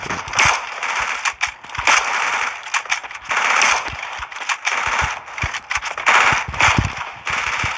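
Rapid bursts of gunfire in the mobile shooter Free Fire, sharp cracks firing in quick clusters with short gaps between volleys, loud and close with no talk.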